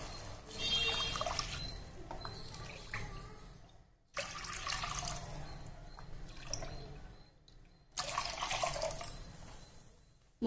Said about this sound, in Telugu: 3 కప్పులు నీళ్ళు యాడ్ చేసుకుంటాను.